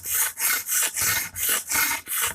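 An Emerson karambit tanto with a chisel grind is drawn repeatedly across a sharpening stone, producing about eight even, rhythmic raspy strokes, close and alone.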